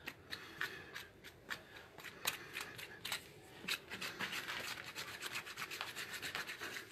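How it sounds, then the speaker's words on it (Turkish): A knife scrapes the singed hide of a sheep's head after it has been seared in a blacksmith's bellows forge, producing a run of close, rasping strokes, sparse at first and then dense and continuous, with no talk. "Ütüleme işleminden sonra bıçak yardımıyla kazınıyor"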